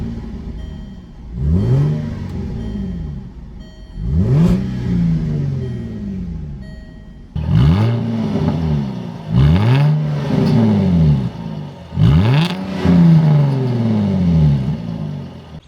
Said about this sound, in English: let me give just a few little revs